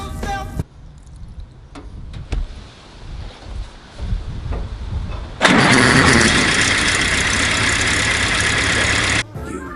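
A WW2 Jeep engine cranks with short bursts and scattered voices, then catches and roars into a loud, steady idle that runs for several seconds before cutting off.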